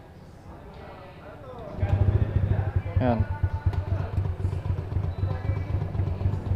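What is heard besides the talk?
motorcycle engine idling unevenly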